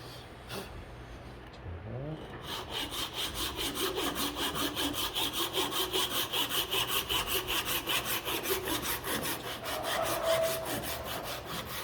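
A hand saw cuts wood for a three-way miter joint, its strokes a steady back-and-forth rasp, close and fairly quiet, with brief talk at the start.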